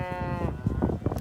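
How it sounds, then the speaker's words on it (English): Cows and calves on a farm bleat and low in a short burst, a drawn-out harmonic call followed by rougher grunting calls, close and fairly loud. "So we have all the cows and calves are here"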